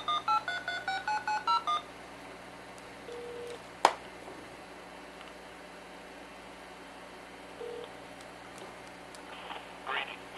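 A rapid string of DTMF telephone dialing tones beeps out at the start, eleven short even pulses, followed by near quiet with faint line hiss, a single sharp click, and a few later faint tone blips.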